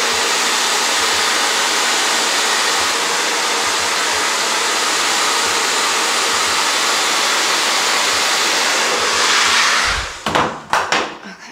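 Hair dryer with a diffuser on high heat and low fan setting, a loud steady airy whoosh that runs continuously and then cuts off near the end with a few handling knocks.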